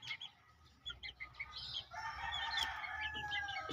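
Gamefowl chickens in a breeding pen crow and cluck at close range, with short bursts of clucking early on giving way to a sustained crow and more calls, plus a soft flutter of wings.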